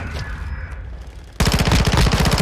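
Automatic gunfire in Call of Duty DMZ, with a quiet stretch of faint game sounds followed by a sudden loud burst of rapid, evenly spaced shots that carries on to the end.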